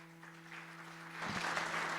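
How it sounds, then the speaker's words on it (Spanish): Audience applause welcoming a speaker onto a stage at a judicial event, rising from a quiet hum into a broad, steady clapping over the final second. "Un aplauso, por favor"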